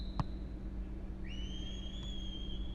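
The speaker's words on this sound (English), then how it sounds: "There's the whistle, and here we go." A referee's whistle blows in PES 2021 during Arsenal vs Olympiacos at the Emirates Stadium, a sustained shrill tone of over a second rising in over a low steady crowd-like hum, with no one talking.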